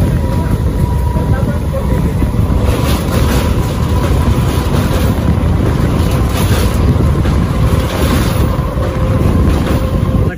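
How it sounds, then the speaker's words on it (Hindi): Loud, steady rumble and rattle of a Bhadrak–Cuttack MEMU passenger train in motion, heard from on board, with rolling wheel noise and a faint clickety-clack throughout. "ट्रेन आसिकी"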